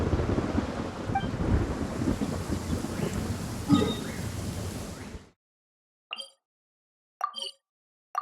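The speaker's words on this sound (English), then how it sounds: "Finally, the rain has stopped." Steady rain pours in a video game, a dense wash of noise with a low rumble of thunder, then cuts out abruptly into near silence broken by a few brief faint sounds.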